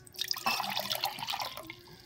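Water poured from a container into a bowl, a short close splashing trickle with dripping at the end, no voices.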